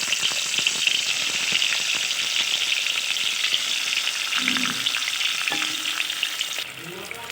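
Marinated pomfret sizzles steadily in hot mustard oil with black cumin seeds, a loud, dense, continuous frying hiss with small crackles and a few spoon scrapes near the end, close and without speech.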